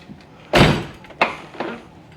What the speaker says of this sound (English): When you pull it, door opens.